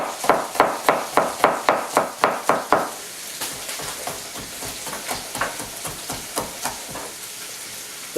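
A knife chops green onions fast on a cutting board, a rapid run of about a dozen sharp, evenly spaced knocks, first loud and crisp, then a quicker, lighter flurry of taps.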